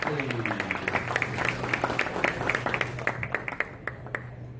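A small group claps in a quick scattered round of applause at a Lindy Hop swing dance competition in Brisbane, with a voice speaking briefly underneath as the clapping thins out.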